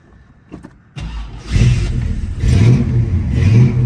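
A 1970 Ford Mustang Mach 1 with the 428 Cobra Jet R Code engine cranks briefly and catches, then roars into loud, rising revs that swell and surge close by.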